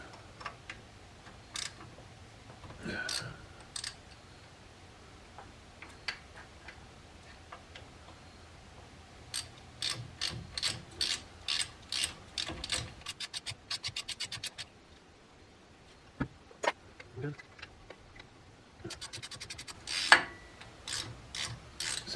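Work with a 7mm Allen wrench removes the brake caliper pins on a 1982 Jeep CJ7 Limited, giving quiet scraping and rapid ratchet-like ticking in bursts, close but faint, with pauses between.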